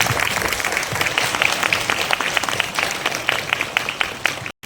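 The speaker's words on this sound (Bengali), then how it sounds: "একটু সবাই হাততালি দেবেন।" An audience at an annual school function applauds, a dense, steady wash of many hands clapping close at hand that runs throughout before cutting off abruptly at the end.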